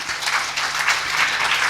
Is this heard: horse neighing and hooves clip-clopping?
no